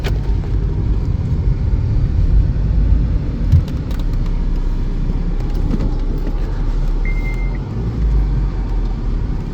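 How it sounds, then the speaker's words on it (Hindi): A car's steady engine and road rumble on a Saudi Arabian street as it pulls away and keeps driving, loud and continuous throughout, with no talking. "गाड़ी हमने लगा दी है ड्राइव पे। हैंड ब्रेक रिलीज़ करेंगे और सीधा चलेंगे"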